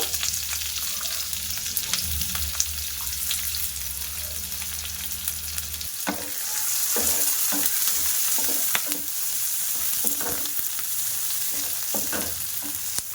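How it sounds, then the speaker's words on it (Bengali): Onions frying in hot white oil in a frying pan, a steady sizzle that swells after a few seconds as they drop in, with scattered scraping and stirring clicks throughout. "তেল গরম হয়ে গেছে, এবার আমি ওর মধ্যে পেঁয়াজ দিয়ে দেব।"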